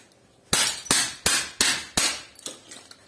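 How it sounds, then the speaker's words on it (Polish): Hammer blows strike iron scrap to knock copper free during metal recycling: six sharp metallic knocks in an uneven rhythm, close and fairly loud, the last one weaker, with no talking. "Cyk tam młotkiem."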